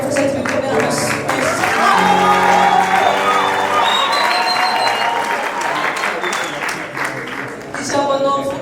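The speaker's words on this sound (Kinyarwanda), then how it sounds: "Ibyo bifasha tubikomera amashyi." An audience claps steadily through the whole stretch, dense and loud, with some cheering and whoops mixed in and voices audible over it.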